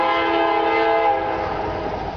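Loud, sustained train horn blaring near a Main Street crossing, one continuous chord-like blast that holds for a couple of seconds and fades slightly at the end.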